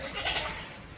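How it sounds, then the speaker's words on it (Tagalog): A goat on a farm gives a single short bleat, fairly near and clear, over faint background noise. "Uy, Choy, maagi ang kambing, Choy."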